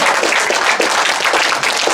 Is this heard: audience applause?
yes